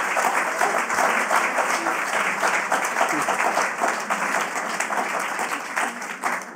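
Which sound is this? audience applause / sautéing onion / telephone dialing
audience applause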